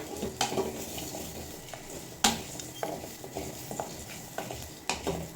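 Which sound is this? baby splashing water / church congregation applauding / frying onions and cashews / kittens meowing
frying onions and cashews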